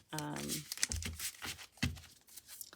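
Tarot cards are shuffled for a pick-a-card reading, giving a soft papery crinkling and riffling close by, partly under a person talking.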